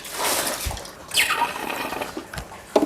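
A syringe sucks water out of a ULKA -13F Series ice maker during descaling, giving brief watery slurps and gurgles with a few small drips, close by and fairly quiet over about three seconds.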